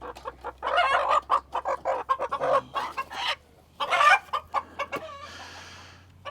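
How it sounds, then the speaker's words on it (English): A frizzle hen, a chicken with poofed-out curled feathers, clucks in a steady run of short close calls, pausing briefly partway through, with a drawn-out raspy call at the end. "This hen here, this is what you call a frizzle."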